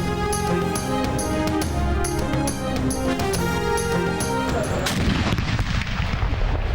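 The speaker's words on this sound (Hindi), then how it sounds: "इस्लामाबाद में 31 और सूबाई दारुल हुकूमतों में 21-21 तोपों की सलामी से हुआ" A cannon gun salute for Eid Milad-un-Nabi in Islamabad fires heavy, repeated booms that blend into loud, steady music-like tones, with a rougher burst of rumbling fire near the end.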